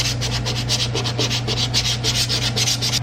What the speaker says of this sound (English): it should be sanded down to bare aluminum